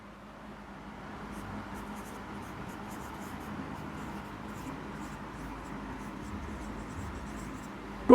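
Pen writing out a math problem on paper, a soft, continuous scratching with short strokes over faint room noise, no talking.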